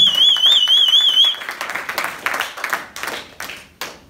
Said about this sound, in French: Clap, clap. Acclamons le Seigneur.